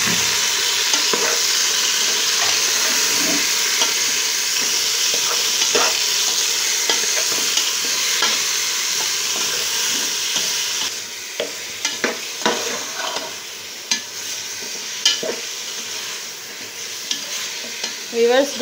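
A kilogram of beef fries in a pot for pumpkin gosht, sizzling steadily while a utensil scrapes and stirs it, with sharper clinks and stirring strokes breaking through more often toward the end.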